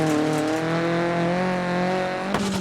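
Rally car engine from the Dirt Rally 2.0 racing game, a loud steady drone with rising revs and gear changes, plus a brief sharp shift or crunch near the end; no voices.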